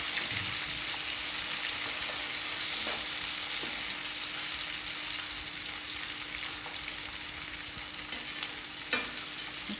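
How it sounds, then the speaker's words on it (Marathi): Prawns sauté in hot oil in a pan for a Konkani-style prawn dish, giving a steady, close, continuous sizzle with occasional light stirring clicks and no voices. "तेलामध्ये छान परतून घ्यायची सगळं सर्व असं तेलाचं कोटिंग त्याच्यावरती आलं पाहिजे"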